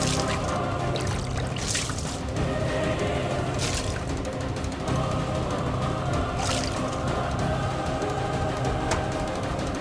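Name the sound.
water being poured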